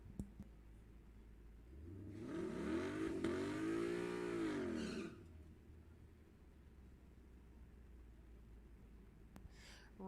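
Two Mustangs, an 1989 model and a 2020 GT, launch down a drag strip with a loud rising roar that swells for about three seconds, then fades into a low idle rumble.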